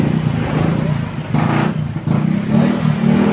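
A Yamaha Xeon scooter engine runs close by with a rough, steady low drone and slight unevenness in the middle.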